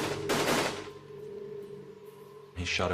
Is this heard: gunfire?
yes